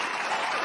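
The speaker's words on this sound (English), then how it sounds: "We got to give the boys a round of applause." A live audience applauds a group of boys on stage, a steady dense wash of clapping from start to finish with a slight swell near the end.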